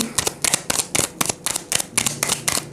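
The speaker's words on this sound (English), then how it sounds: "let me finish the shuffle and I'll pick your past cards." Tarot cards are shuffled by hand at a table, a close series of quick riffling bursts repeating in a regular rhythm about every quarter second, with no talking.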